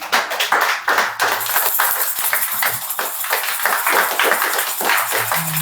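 Church congregation clapping together at the close of a worship service, a lively mix of many hands with some rhythmic sharp claps, steady and fairly close throughout.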